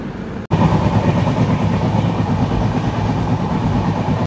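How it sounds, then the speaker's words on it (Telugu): The AP Express passenger train pulling out of Balharshah railway station after a one-minute stop, a loud, steady low rumble and rolling wheel noise that begins abruptly and carries on evenly. "ఇక్కడ ఒక 1 minute స్టాప్ తర్వాత అయితే మన ట్రైన్ అయితే స్టార్ట్ అయిపోయింది"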